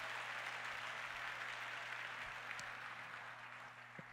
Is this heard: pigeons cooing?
no